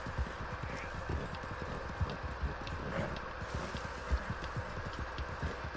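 Horse hooves walk in Red Dead Redemption 2, a steady, close clip-clop rhythm of hoofbeats over a continuous ambient outdoor bed, with no voices.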